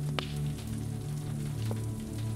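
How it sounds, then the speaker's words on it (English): Steady rain falls during a storm outside a cozy Cotswolds home, a soft, even patter holding constant under a low hum with no voices. "Outside, you see Malcolm and his two children running in from the rain."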